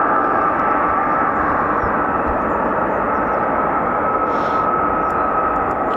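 An F-35B stealth jet taxiing at RAF Marham, a loud continuous engine roar with a steady whine held throughout, close and dominant, no talking.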